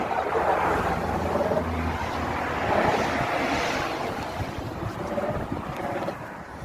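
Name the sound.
wind blowing at the seaside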